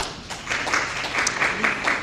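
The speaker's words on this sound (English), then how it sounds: "you can go ahead and clap, y'all can't help yourself" An audience at a legislative dinner claps, a brief patter of applause under a speaker's voice in a hall.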